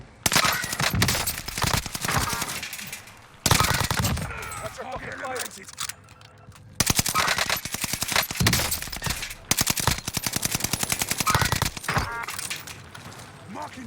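Loud automatic gunfire from Call of Duty: Warzone crackles in long, rapid bursts separated by short pauses, with a player talking over the shooting.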